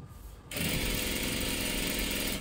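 A sewing machine stitches the bottom hem of a salwar. After a short quiet start it bursts into a loud, steady, rapid mechanical whirr up close and keeps running without a break.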